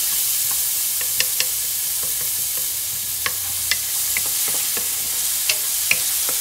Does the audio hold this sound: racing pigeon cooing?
no